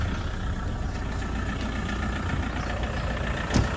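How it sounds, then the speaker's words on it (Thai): A 2007 Toyota Vigo 2.5 diesel pickup engine idles steadily, a close, even low-pitched clatter and hum with a brief louder knock near the end. "มาฟังเสียงเครื่องยนต์กันครับ"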